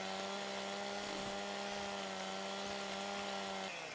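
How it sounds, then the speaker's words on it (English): A chainsaw in Farming Simulator 17 felling trees during logging: a steady, buzzing two-stroke engine drone at an even pitch that holds throughout, then briefly eases near the end. "let's cut down a few trees. Now I'm not sure how loud the chainsaw will come out"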